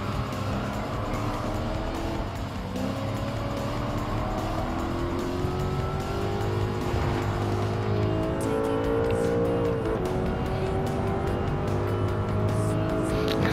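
Old BMW race cars on the Dragon Trail circuit in a racing video game, engines droning and revving continuously as a pack, with rising and falling pitch and some tire squeal, loud and steady throughout.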